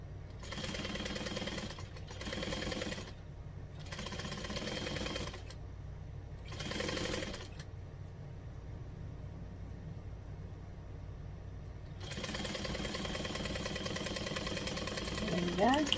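A sewing machine stitching lining fabric and a zipper in several short bursts with pauses between, then a longer steady run near the end, loud and close over a low background hum.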